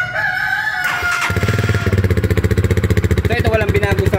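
Rooster crowing nearby, a drawn-out call at the start, then a Rusi Classic 250i motorcycle engine idling and revving on the stock exhaust with a steady rapid thump.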